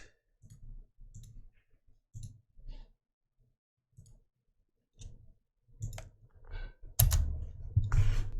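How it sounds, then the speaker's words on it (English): A computer mouse gives quiet, sparse right-clicks during digitizing work in Hatch 3 embroidery software, the taps coming in small bursts and growing denser and louder toward the end. "start your right clicks down. Gonna go ahead and right click all the way around."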